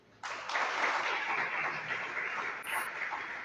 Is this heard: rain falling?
no